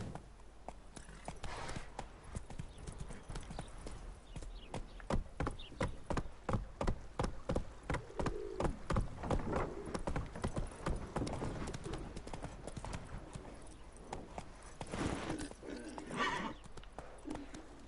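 Hooves of Roach, a horse ridden in the video game The Witcher 3, clip-clop in a steady running rhythm close by, with a couple of neighs and whinnies rising over the hoofbeats partway through and near the end.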